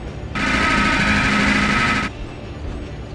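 Enemy turrets fire in the RoboCop video game as one sustained, loud, rapid-fire burst of about two seconds over steady background game noise.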